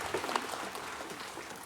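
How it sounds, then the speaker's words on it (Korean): A congregation claps during a Sunday church worship service at Daegu Hana Church, a steady, fairly faint wash of applause that carries evenly through the short moment with no one speaking. "영광의 박수를 하나님께 드리겠습니다."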